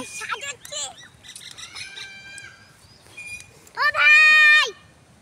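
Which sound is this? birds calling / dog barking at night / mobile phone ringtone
birds calling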